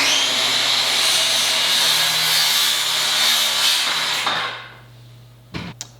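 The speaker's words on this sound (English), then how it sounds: "I just used the Ultra Finish, cutting this trim right here." A DeWalt Ultra Finish power tool cuts wood trim, a loud steady high whir that winds down after about four seconds, followed by a quiet hum and a short knock.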